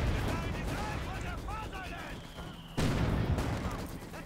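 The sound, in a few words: G43 rifles firing at infantry in Company of Heroes 2 video game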